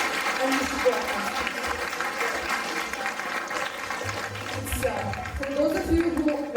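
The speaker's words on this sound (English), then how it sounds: "Let's give a huge round of applause." Applause from the audience at a youth-themed Ramayana drama performance during a Sunday feast, a dense, even clatter of clapping that runs the whole time with voices faintly mixed in.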